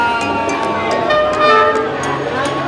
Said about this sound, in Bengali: ট্রেন আসছে, ট্রেন পার হয়ে খাবার নিয়ে চলে যাচ্ছে